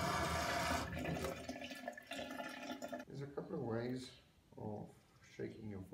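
Warm water splashes and runs over a Harley Davidson Screaming Eagle air filter being rinsed, a loud gush at first that gives way to intermittent trickles while someone talks.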